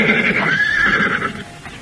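A horse neighs in one drawn-out whinny lasting almost two seconds, loud and close, with a rising then falling tone and no voices over it.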